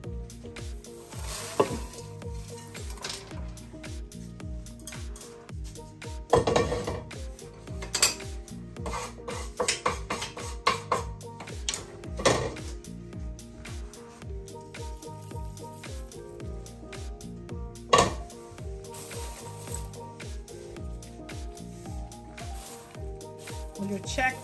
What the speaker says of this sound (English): I'm gonna put in a bowl so I can just make sure that all the spices incorporated in the popcorn